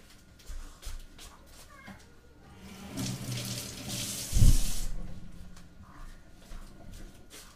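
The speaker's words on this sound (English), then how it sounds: "Wash the apples" Tap water runs into a sink while apples are washed for a fruit salad, a fairly close hissing flow with a louder splash partway through and some clatter around it.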